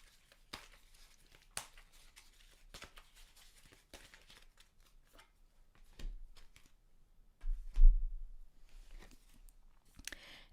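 A deck of soul coaching oracle cards is shuffled close by, giving soft crisp riffles and slides in irregular bursts, quiet overall, with a fuller shuffle toward the end.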